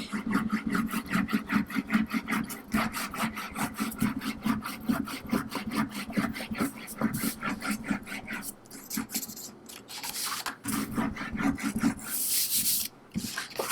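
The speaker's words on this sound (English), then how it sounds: "I like to flip it over and just give it a good burnish really quick." Paper folio pieces are burnished by quick, repeated rubbing strokes, a close, rhythmic scratchy swishing that continues steadily throughout.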